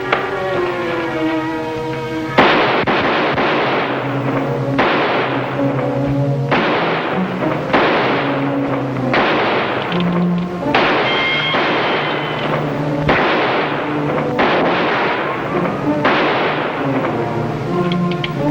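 Gunfire in a 1952 western TV shootout: a long run of loud, booming shots repeating every second or two over a steady background of music or noise, with no speech.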